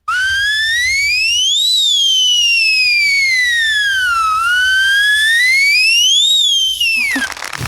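A man whistles loudly in imitation of a 108 ambulance siren. The pure tone glides up and down in two slow, wailing sweeps, then breaks off abruptly.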